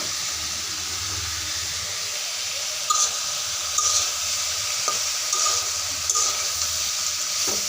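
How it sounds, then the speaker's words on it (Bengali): Flat beans (shim) frying in a pan, sizzling steadily and close, with a spatula stirring in scraping clinks through the second half and no talking. "এখন আমি ঢাকনাটা তুলে আরেকটু নাড়াচাড়া দিয়ে নিব।"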